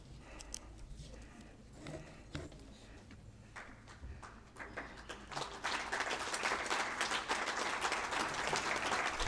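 Applause at a valedictory ceremony begins with a few scattered claps and shuffling, then swells into fuller, louder clapping from the audience over the final seconds.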